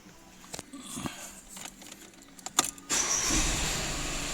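A Skoda Octavia 2.0 TDI diesel is cranked and fires up at the end, following scattered clicks and handling noises in a warm workshop; the engine then settles into a steady, close idle.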